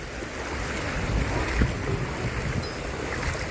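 Ocean waves wash steadily onto the beach at Ponta da Praia in Santos, a constant close roar of surf mixed with buffeting wind noise.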